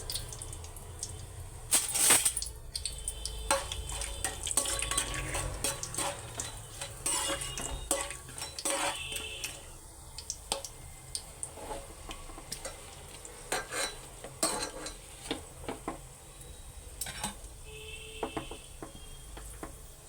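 Whole spices and a bay leaf going into a pan for prawn biryani, with close clinks and scrapes of a utensil against the pot over a light sizzle, stirring continuing irregularly throughout.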